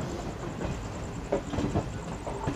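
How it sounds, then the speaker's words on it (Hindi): Black Diamond Express train departing a junction, a steady low rumble of carriages with faint rhythmic clicks of wheels over rail joints, heard from inside at moderate distance. "मंडल जंक्शन से डिपार्चर अपनी ब्लैक डायमंड एक्सप्रेस भाई।"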